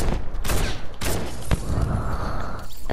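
Rapid no-scope gunshots in Fortnite, loud cracks spaced roughly half a second apart over a steady rumble of game noise.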